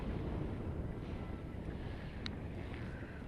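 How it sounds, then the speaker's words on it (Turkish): Steady wind buffets the microphone at a high lookout in Antalya, a dense low rumble throughout with no voices, strong and constant from start to finish. "Çok rüzgar var burada."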